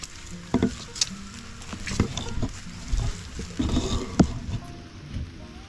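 Rain patters steadily on surfaces outdoors during a vegetable harvest, faint and close, with scattered knocks, rustles and handling noises from the work mixed in.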